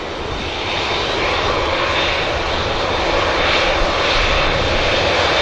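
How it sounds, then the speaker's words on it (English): A Saudia airliner departs Manchester Airport bound for Jeddah, a loud, close and continuous jet engine roar that holds steady and builds a little throughout, with no voices. "Finally, Saudia heading back to Jeddah."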